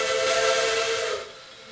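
A Baldwin 3 steam locomotive whistle from a railroad simulation game blows one loud, sustained, steamy chord with breathy hiss, then cuts off into a fading tail of steam.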